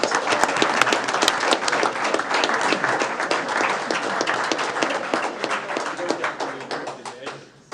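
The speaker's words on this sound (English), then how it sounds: "So I think he needs a hand of applause for that." An audience claps at a city council meeting in Allen Park: dense, crisp applause from a room of people, loud at first and then gradually thinning and fading over several seconds.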